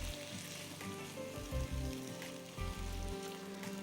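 Food frying in a pan sizzles steadily, a dense crackling hiss with a few louder bursts of spattering, no voices present.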